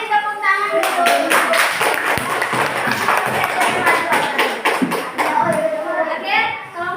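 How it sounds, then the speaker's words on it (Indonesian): A group of children clap together in a classroom, a dense burst of rapid, uneven hand claps that carries on for several seconds, with children's voices chattering underneath. "Tepuk tangan dulu"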